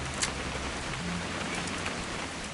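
Rain in the video game What Remains of Edith Finch falls as an even, unbroken hiss of droplets, with a few faint brighter patters standing out against the steady wash.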